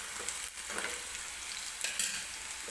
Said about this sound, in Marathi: एक 4-5 मिनिटे आपल्याला लागतील हा बटाटा तेलामध्ये शिजवून घेण्यासाठी